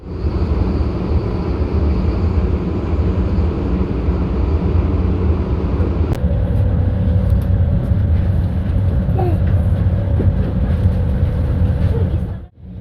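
A steady low rumble of a Swiss local passenger train from Chur to Zurich, heard from inside, with a brief clunk midway and a faint tonal whine later.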